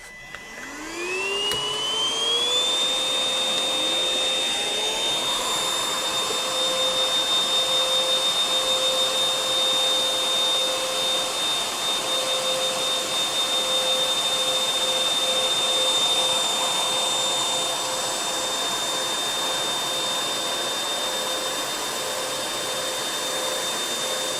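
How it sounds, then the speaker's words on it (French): Two Dibea M500 stick vacuum cleaners spooling up together to maximum power and sucking up a line of salt, a loud steady whine with a high sustained tone that holds for the whole stretch. "je vais les mettre en puissance maximale tous les deux et puis leur faire aspirer un petit peu le rail de sel ici"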